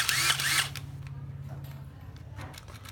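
An old Makita 9.6V cordless drill that runs in only one direction whirs briefly and loudly, then winds down into a fainter mechanical hum with small clicks.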